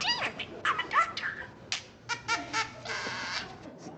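A parakeet chatters nearby in short squawks, chirps and mimicked sound bursts, irregular and varied, with brief pauses between phrases.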